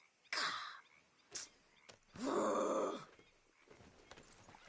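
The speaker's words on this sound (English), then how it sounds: "Damn horse acting up on me." A horse in the Red Dead Redemption 2 video game acts up, giving a few loud snorting, whinnying bursts with hoof clatter. A long harsh blow comes near the middle, and softer shuffling follows.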